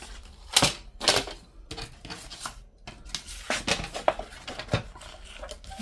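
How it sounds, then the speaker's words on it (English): A paper trimmer slicing paper for a Christmas writing journal, a series of close, crisp cutting strokes and sliding clicks in an uneven rhythm, moderately loud with no talk. "So let me trim this at 1 inch."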